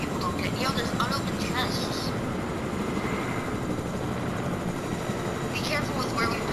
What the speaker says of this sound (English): We gotta be careful with where we park our helicopter.